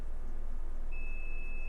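A multimeter beeps while probing the FETs of an Alpine MRV-1507 car amplifier under repair, a single steady electronic tone that starts partway through and holds over a low hum.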